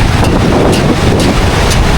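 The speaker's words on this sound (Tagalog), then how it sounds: "Medyo malakas pa rin yung hangin at saka yung alon." Strong habagat monsoon wind sweeps across a Boracay beach with waves rolling in, loud and roaring, gusts buffeting the microphone throughout.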